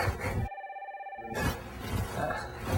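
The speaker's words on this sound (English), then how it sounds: "Phone!" An office telephone rings with one steady electronic ring lasting under a second, clear and moderately loud, surrounded by room noise.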